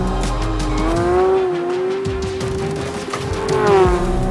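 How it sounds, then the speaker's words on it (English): A 2022 Porsche 911 GT3 is driven hard into a track corner, its engine holding a loud, steady high-pitched wail with slight rises and dips as the car moves around, tires faintly squealing beneath. "we're driving deep into the corner, sort of let it move around a little bit"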